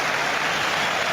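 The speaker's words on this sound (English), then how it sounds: "He's rightly applauded for the run forward" Crowd applause fills a football stadium during a Premier League match between Manchester United and Arsenal, a dense, steady wash of clapping that holds at an even, loud level for about a second with no break.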